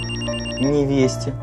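A mobile phone rings in a room with steady repeating electronic ringtone tones throughout, while someone speaks briefly over it near the end.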